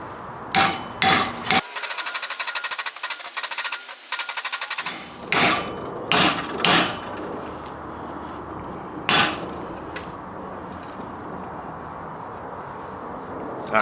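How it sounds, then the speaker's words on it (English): An aluminum radiator support for a 73-87 Chevy C10 is hammered over into a bend, with sharp, ringing metallic blows, first a few single strikes, then a fast rapid burst, then several spaced, loud close-up hits. "So let's go ahead and hammer this one over."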